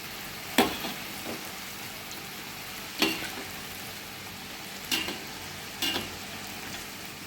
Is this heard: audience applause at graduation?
no